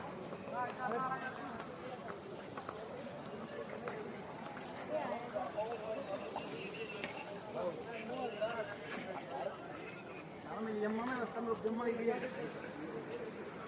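A long line of horses walking along a mountain trail on the Amarnath pilgrimage route, with soft hoof clops and shuffling mixed into a crowd of pilgrims talking and calling out nearby.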